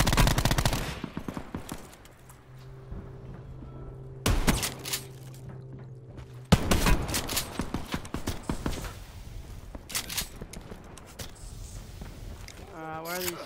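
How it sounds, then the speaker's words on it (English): Ray gun shots and other gunfire in Call of Duty Blackout on Alcatraz, rapid bursts of sharp shots in several volleys with quieter gaps between, and people talking over parts of it. "Where are those ray gun shots?"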